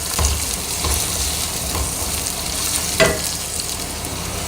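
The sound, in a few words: chopped onion sautéing in a pan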